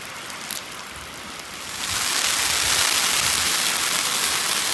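Rain splattering onto a hot outdoor griddle while rolled tacos fry in oil, a steady hiss of broadband patter that grows louder and denser partway through, with no talking.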